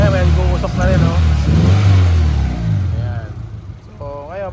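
A misfiring Mitsubishi Lancer engine with loose compression runs close by with an uneven, sputtering note and rising revs, while someone talks over it throughout.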